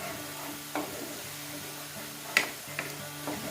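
Onions frying in hot oil with garam masala for chola bhatura, a steady low sizzle with soft stirring scrapes and a few sharp clicks of a spoon against the pan, close and fairly quiet, with no talking.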